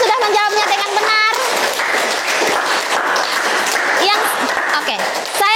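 A classroom of students claps for two groups that answered correctly, a busy round of applause with a cheerful voice calling out over it and chatter woven through.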